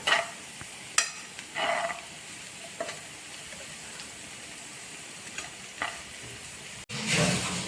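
Onions softening in a hot pan, a low continuous sizzle with a few scattered stirring scrapes and one louder burst of frying near the end, heard close and alone.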